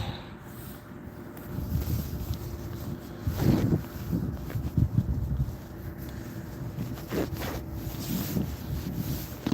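Chilly wind blows outdoors on a morning, buffeting the microphone with a steady low rumble and occasional stronger gusts, loud and close throughout.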